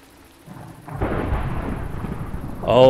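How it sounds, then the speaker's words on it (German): Thunder from a thunderstorm in the video game Minecraft rolls in as a broad, rising rumble lasting a couple of seconds, with a sharper crack near the end. "Oh, ein Gewitter."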